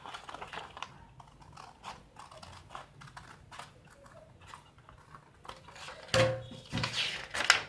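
Scissors cutting a round neckline out of a paper pattern, quiet close snips and rustles that grow louder and crisper toward the end, no voices.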